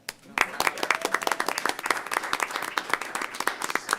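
An audience at a board of education meeting claps, starting after a short pause and building into a sharp, close, irregular patter of many hands with a few voices mixed in.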